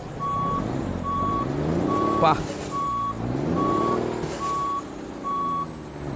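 Reversing alarm of a Mack R600 truck in Euro Truck Simulator 2, a steady run of evenly spaced electronic beeps about once a second over a low diesel rumble, with a brief air-brake hiss partway through.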